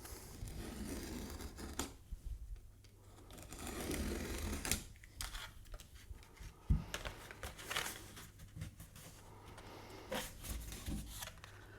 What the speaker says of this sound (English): So I'm going to cut the veneer to size